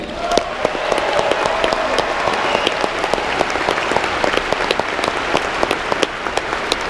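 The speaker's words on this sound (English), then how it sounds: "Would you help me give a wonderful Orlando welcome to Mr. Ken Kington?" A large audience at a comedy show in a Baptist church in Orlando claps steadily and continuously, a dense, even wash of applause that holds at the same level throughout.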